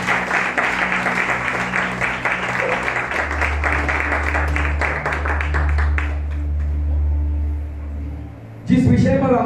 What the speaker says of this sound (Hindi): आइए यीशु मसीह के लिए हम जोरदार तालियों में प्रभु का स्वागत करें